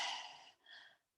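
A deep breath blown out slowly during a guided meditation, a soft airy exhale that fades, pauses briefly, then trails off in a second gentle breathy release, close and alone.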